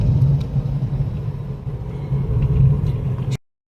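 Car cruising in fourth gear on the Bengaluru-Mysuru Expressway, a steady low engine and road rumble heard from inside the cabin, continuous and moderately loud before cutting off abruptly.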